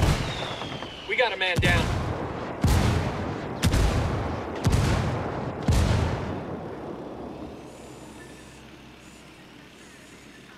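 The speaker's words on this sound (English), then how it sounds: "Calling for indirect fire." An artillery strike in Ghost Recon Wildlands lands as five heavy booming blasts about a second apart, each with a rumbling tail, before the rumble fades away; a voice speaks briefly near the start.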